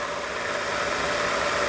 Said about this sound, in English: you're getting a bit of noise from there, which is a combination of the motor